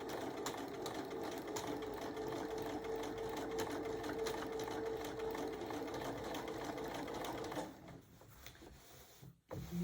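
A sewing machine stitching straight quilting lines through fabric, a steady fast mechanical whir that runs for several seconds before stopping, followed by a few soft handling clunks, no speech.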